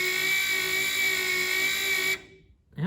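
An electric trim motor on a Carbon Cub kit aircraft whines steadily and close, then cuts off abruptly as the limit switch stops it, leaving near silence before a brief noise.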